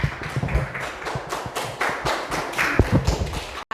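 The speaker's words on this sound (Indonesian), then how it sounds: "tepuk tangan dulu dong" A class audience applauding, a dense burst of many hands clapping together, close and fairly loud, steady for a few seconds before stopping abruptly.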